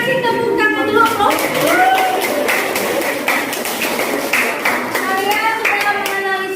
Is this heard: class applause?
yes